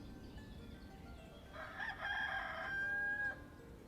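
Chickens crow and cluck in the farming game Ostriv, a rooster-like call rising out of steady ambient background noise for a couple of seconds, moderately loud and with no talking.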